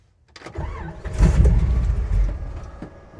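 A 1957 Chevy fitted with a 454 V8 cranks over in one loud starter grind lasting a couple of seconds, sputtering without catching before it trails off.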